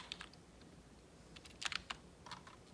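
Soft keystrokes on a computer keyboard come in short, irregular bursts during password entry, faint and close in an otherwise quiet room.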